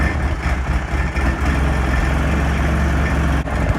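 2004 Polaris Sportsman 700 ATV engine running at a steady, rough, low idle close by, a continuous rumbling drone with no talk over it.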